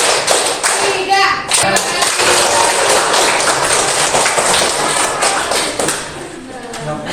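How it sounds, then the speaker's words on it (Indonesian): A classroom group does a rhythmic clapping ice-breaker, many hands beating together in loud close claps with patterned counts and brief pauses, some children's voices mixed in. "Ice breakingnya dengan tepuk tangan. Oke, perhatikan. Tepuk 1, tepuk 3."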